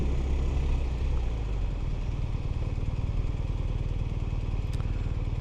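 BMW R 1250 RS motorcycle engine running steadily up close, a continuous low, pulsing boxer-twin drone with even rhythm throughout and no voices.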